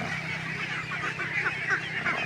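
Crowd of ducks at a large duck farm in Jaen, Nueva Ecija, a continuous busy chorus of quacking and honking at steady moderate level, no talk.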